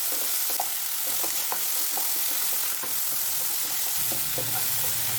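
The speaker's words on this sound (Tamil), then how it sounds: "இதையும் நல்லா வதக்கி விடுவோம்" Chopped tomato and onion sautéing in a pan for a snake gourd kootu, a steady close sizzle with light stirring taps and a brief low rumble near the end, no talk.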